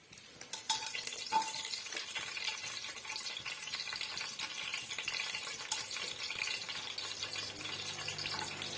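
Whole spices sizzle in hot oil in a pressure cooker for chicken biryani, a bright continuous crackle close by with occasional stirring clinks against the metal.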